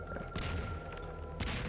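A bomb going off in the video game Garry's Mod, two booming bursts with heavy low rumble over a steady game background, fairly close and distinct.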